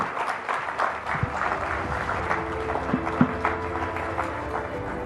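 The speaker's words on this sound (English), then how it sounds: "a big round of applause for Secretary Kerry" Steady audience applause, a dense wash of clapping that holds throughout at an even level, with no talking.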